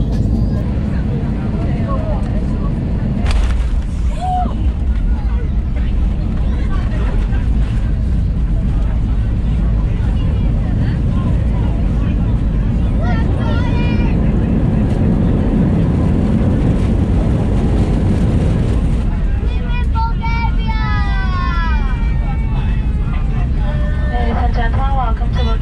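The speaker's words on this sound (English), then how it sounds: "commenced our final approach for a bruiser of a landing at Burgos Airport" BH Air airliner touching down at Burgas Airport, heard from inside the cabin as a loud, continuous low rumble of engines and airframe with jolts and rising roar near the end.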